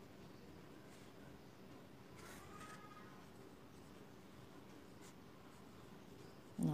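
Pen or pencil writing the numbers one to ten in a school notebook, a steady faint scratching that runs softly and continuously against a quiet room.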